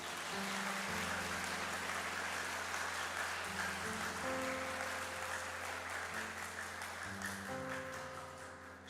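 Church congregation applauding at a youth-week service: a dense, steady wash of clapping fills the hall throughout, with sustained low musical tones droning underneath and no talk over it.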